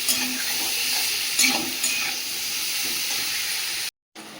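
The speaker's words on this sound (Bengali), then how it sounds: "আমি ফোড়নে কালো সর্ষে দিলাম হালকা করে" Black mustard seeds tempering in hot oil for a raw mango curry, giving a steady close sizzle and hiss with a few stirring clatters before the sound cuts out briefly.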